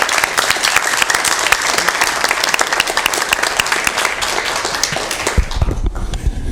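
Loud, dense applause from an audience at a Sacramento Environmental Commission meeting honoring a councilmember, sustained clapping close by for several seconds before tailing off with a few scattered claps and bumps.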